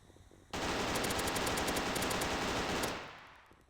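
Rapid automatic gunfire from a zombie first-person shooter video game, a loud continuous burst lasting over two seconds and then trailing off, with no talk over it.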